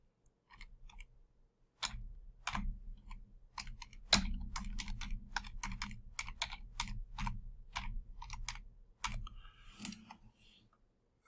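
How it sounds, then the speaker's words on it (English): Keys on a computer keyboard are typed in quick irregular bursts, crisp close clicks with short pauses between words and no talking. "I'm going to type it out because for some reason it doesn't like"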